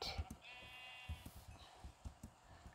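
Sheep in the Java edition of Minecraft bleat faintly in short, repeated calls against a quiet background with scattered soft game sounds.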